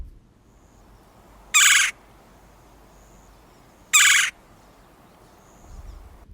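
Two loud, short identical calls of a red-bellied woodpecker played back from a bird identification app, spaced a few seconds apart over quiet background.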